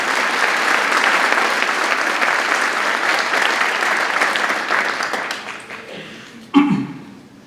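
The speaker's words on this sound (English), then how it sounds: "So a round of applause to all the awardees and your recognition." Loud, steady audience applause at a Veterans Day ceremony for awardees, fading out after about six seconds, followed by a brief thump.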